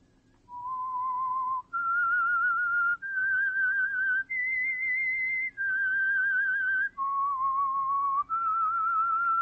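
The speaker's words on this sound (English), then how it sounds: "That whistle is your signal for the Signal Oil Program" A person whistles a slow, clear melody alone as an old-time radio show signature, the notes held and separated by brief breaths, with a faint low hum underneath.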